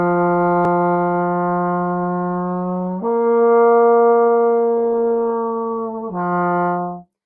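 Trombone playing a slow glissando exercise with a relaxed airstream: three sustained, harmonic-rich tones sliding between pitches, the first low, a middle one slightly higher, then back down, played alone and close.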